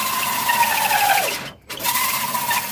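A hole saw on a drill bores into a 2007–2013 Chevrolet Silverado headlight, giving a steady high motor whine that sags and winds down, breaks off for a brief moment, then starts up again.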